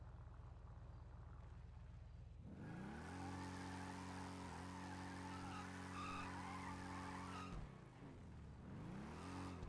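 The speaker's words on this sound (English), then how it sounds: "Do a massive burnout there. I love this bike because of the massive burnouts you can do." A motorbike performs a burnout in GTA 5, its engine revving hard with a rising whine layered over continuous tire skidding. The noise holds loud for several seconds, dips briefly, then revs up again.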